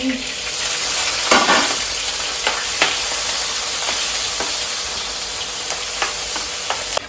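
Onion, tomato and chili frying in a pan, giving a steady close hiss of sizzling oil broken by sharp clicks and scrapes of stirring.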